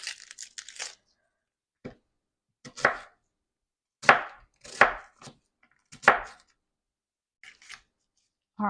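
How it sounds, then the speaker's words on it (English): A knife chops an onion into bite-sized pieces on a cutting board, sounding as sharp, close, separate thuds in small irregular clusters with short silences between them. "Then I'm going to cut it in just little bite-sized pieces, just like that."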